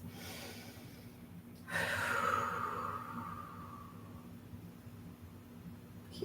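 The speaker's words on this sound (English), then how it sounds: "Big deep breath." A single deep breath taken during an arm and triceps stretch, a close airy inhale and slow exhale standing out from quiet room noise.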